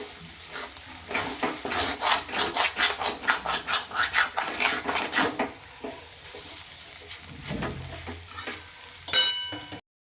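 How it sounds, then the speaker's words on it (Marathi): Sabudana khichdi is stirred in a pan on low gas, with a rapid run of rhythmic scraping strokes that slow down and turn into a quieter sizzle, ending in a few sharp clinks against the pan. "आता आपल्याला एकदम लो गॅसवरतीच ह्याला 1 ते 2 मिनटं छान परतून घ्यायचे"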